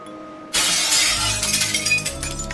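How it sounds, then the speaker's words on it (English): Glass window shattering in a sudden loud crash that bursts in after half a second of quiet, followed by a scattered tail of falling shards and debris. "I heard the sound of glass shattering from a few rooms over."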